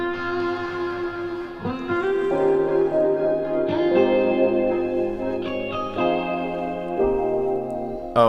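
Music with a heavily distorted, gritty instrument, sustained chords changing every second or so, thick and saturated, with no voices.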